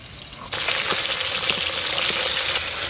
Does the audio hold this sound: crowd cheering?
no